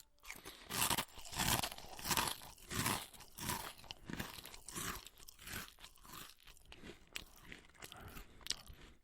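Stale Halloween-variety Cap'n Crunch cereal is chewed close to the mic in steady, loud crunching bites that repeat for several seconds without talk.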